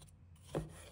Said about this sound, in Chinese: 把剩下的西红柿切成小块，这里要尽量切成滚刀块